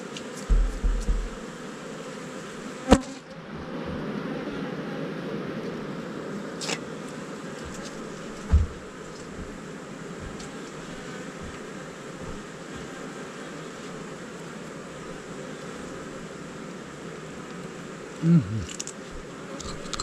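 Honey bees hum steadily inside a hive holding around 50,000 bees, a continuous low drone with a few brief knocks and rustles near the start and the end.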